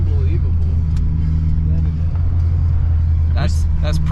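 A turbo-swapped Chevrolet Cobalt accelerates hard with wheelspin through second gear, a loud steady engine drone heard from inside the car with a brief tire-squeal-like rise near the end; people talk over it.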